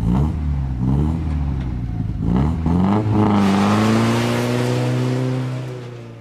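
A classic British sports car, an MG, revs its engine close by, the growl climbing and falling through several gear changes before settling into a sustained loud drone.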